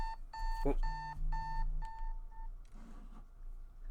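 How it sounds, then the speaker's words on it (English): An old alarm clock beeps in a repeating pattern of short, steady electronic tones, fairly close and clear, with a brief exclamation from a man partway through and a softer rustle near the end. "That's my old alarm that I need to turn off at this point."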